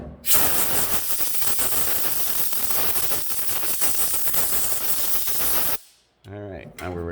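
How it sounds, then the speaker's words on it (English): Loud, steady hiss of compressed air blowing dirt and sand off the fuel pump area of a 2014 Ford F550 truck, continuous and close, cutting off abruptly near the end before a short burst of talk. "blow the air off, or blow the dirt off the sand that has loosened"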